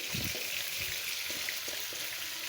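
Chopped onions sizzle and fry with browned chicken pieces in a pan for chicken kala bhuna, a steady dense crackling hiss with soft stirring knocks underneath.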